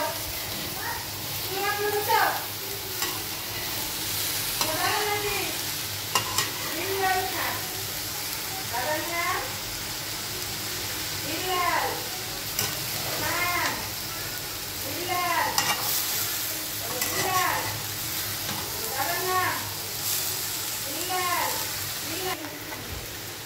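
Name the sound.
stirring vegetable fry (bhaji) sizzling in a pan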